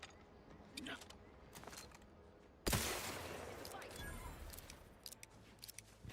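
Rifle gunfire in a video game erupts as a sudden loud blast partway through, followed by a decaying rush of shot noise, with someone talking in the background.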